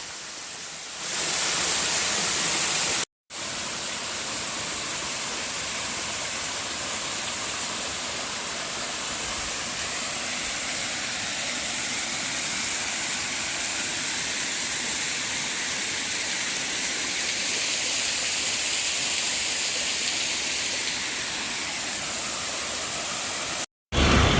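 A loud, steady roar of falling water from Padgha waterfall in Palghar during the monsoon fills the whole stretch, dense and unbroken, with a couple of brief dropouts.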